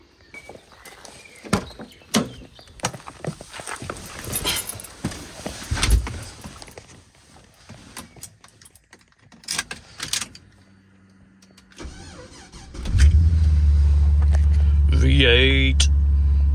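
A person gets into a car, with door handling, rustling and a door thump, then the engine starts and settles into a steady, loud close idle-to-drive rumble that fills the final seconds.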